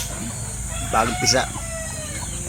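Backyard fighting chickens give a couple of short, close calls about a second into the clip, over low farmyard background, with a person speaking briefly alongside them.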